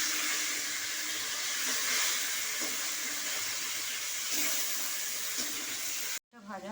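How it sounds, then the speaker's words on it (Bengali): Khoira fish frying lightly in salted oil gives a steady, close hiss of sizzling that runs unbroken for about six seconds before cutting off abruptly. "এটা হালকা করে ভাজবো, কড়া ভাজবো না, একদম হালকা।"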